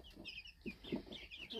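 Chinese Crested Silkie chickens cluck softly nearby in a quiet room, a string of short murmuring clucks and brief higher calls.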